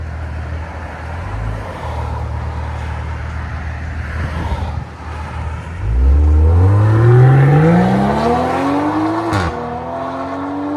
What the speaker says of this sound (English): Oh my God, it sounds like a freaking race car, guys.